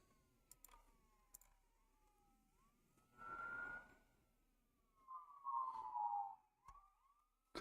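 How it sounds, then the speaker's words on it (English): Faint emergency vehicle sirens wail somewhere outside, rising and falling in long sweeping tones across several seconds, distant and low behind quiet indoor sounds. "Hearing sirens."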